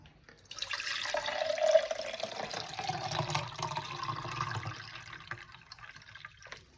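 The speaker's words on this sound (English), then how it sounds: "then fill up with fresh water" Fresh water runs steadily into the tank of a Nespresso Vertuo Pop coffee machine during descaling, a continuous pouring hiss for several seconds that starts abruptly and tapers near the end.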